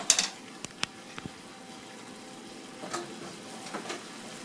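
Collard greens steaming in a covered pot with a little water, a soft continuous sizzle and bubble punctuated by a few sharp clicks and taps near the start.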